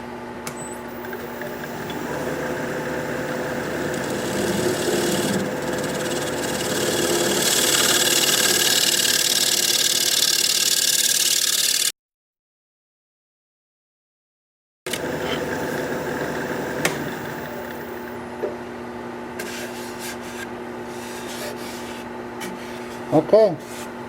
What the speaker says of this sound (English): I'm going to scrape it.